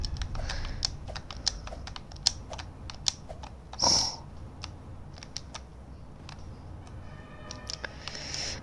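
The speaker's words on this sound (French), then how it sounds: "je dois cliquer sur mon clavier à chaque fois" Soft, scattered keyboard taps click away in a quiet room, irregular and close, with a brief rustle partway through.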